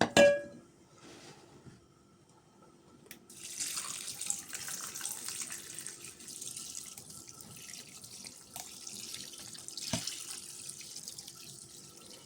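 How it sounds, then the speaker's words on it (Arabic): Water pours steadily from a tap or jug into a cooking pot over layered rice and vegetables for a vegetable and chicken maqluba, a continuous close hiss of running water with a faint clink of the pot near the start. "وراح نضيف عليه المي."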